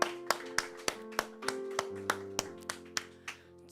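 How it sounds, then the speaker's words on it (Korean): Church congregation at a Pentecost Sunday worship service clapping in a slow, even beat, about a dozen sharp claps ringing out over sustained organ or keyboard chords, with no talking. "박수로 아멘"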